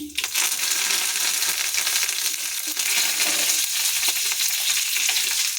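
Steady crackling sizzle of curry leaves frying in hot oil, loud and close, with no voices.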